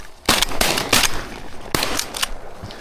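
Several loud shotgun blasts go off in quick succession during a goose hunt, close and sharp over outdoor background noise.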